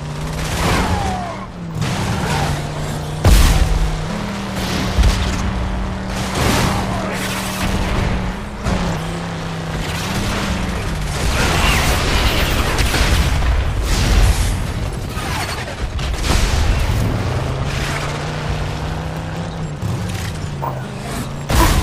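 Explosions and booms erupt repeatedly in the video game Starhawk over a constant droning engine hum, with bursts of gunfire and mechanical clanks throughout, loud and close.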